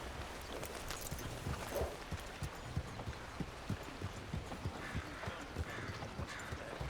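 Horse hooves in Red Dead Redemption 2, an even clip-clop of a riding horse's steps under a faint outdoor ambience, moderately quiet with no speech.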